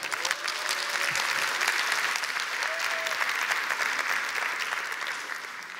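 Steady audience applause fills a Korean lecture-stage talk event, loud and sustained throughout with dense clapping and faint crowd murmur beneath.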